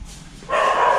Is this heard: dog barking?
yes